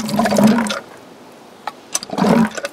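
Water gushes from a hand pump on a hand-dug shallow well after priming, in two loud splashing bursts separated by a quiet pause.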